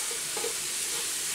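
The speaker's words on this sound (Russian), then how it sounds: "Отправляем натертую морковь и тушим до мягкости морковки." Grated carrot sizzles and fries with onion in a pan, a steady soft hiss with faint stirring scrapes and no voices.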